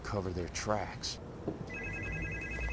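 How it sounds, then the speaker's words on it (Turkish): A flip phone rings in the horror video game Supernormal, a repeating electronic ring that starts partway through and runs to the end, while people talk loudly over the first part. "Katlı kapalı bir telefonun çalmasından."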